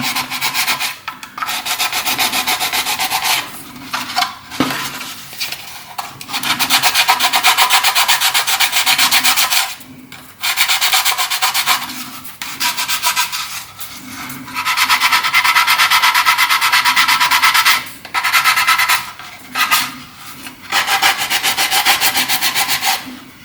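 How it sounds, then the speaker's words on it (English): Hand sanding of a homemade Dalek part, dry rasping strokes in repeated bursts of a few seconds each, separated by short pauses, close and fairly loud with no talking. "Just keep rubbing it down till it's how you want it, so it's nice and tidy"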